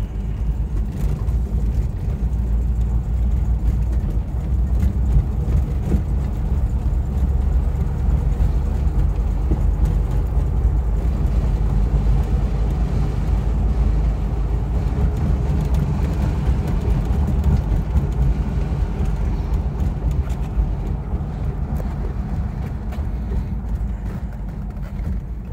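A 1962 Bentley S2 Continental Flying Spur with HJ Mulliner coachwork drives along a road, heard from inside as a steady low engine drone and road rumble that stays even and loud throughout.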